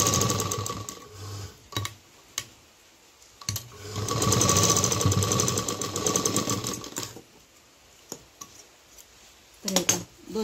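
Domestic sewing machine stitching a double seam on a fabric bag for a dholak drum, with short whirring runs and then a longer steady burst of rapid needle strokes, close up, with stops between runs and someone talking.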